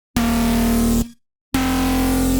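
Drum and bass synth lead played dry without effects, two long bright buzzing notes of steady pitch separated by a brief silence, loud and upfront with no talking.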